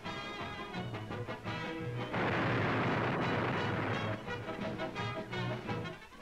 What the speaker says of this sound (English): Dynamite loosens tons of the rich sand